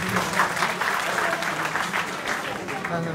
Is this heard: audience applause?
yes